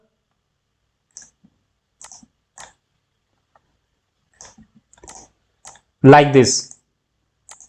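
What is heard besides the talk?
computer keyboard arrow keys and mouse clicking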